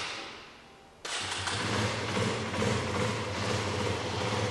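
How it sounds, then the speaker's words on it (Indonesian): A single-cylinder motorcycle engine with a stock exhaust catches abruptly after a brief quiet, then settles into a steady, even idle close by. "suara satu silinder tidak ada yang istimewa, hanya lebih halus saja gitu karena dia knalpot standar"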